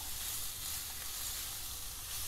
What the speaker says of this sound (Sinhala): මේක පොඩ්ඩක් මේ තෙල් එකෙන් පොඩ්ඩක් තෙම්පරාදු වෙන්න තියමු.